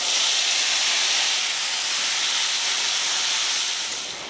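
Masala mix sizzling in hot oil with popped mustard seeds and cumin on a low flame, a steady broad hiss that holds loud throughout and eases slightly at the end.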